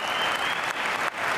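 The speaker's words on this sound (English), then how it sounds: "there's going to be a massive roar after this rally" A packed arena crowd at the 2012 British Squash Open semi-final bursts into loud, sustained applause and cheering right after a rally, the clapping dense and continuous with small dips.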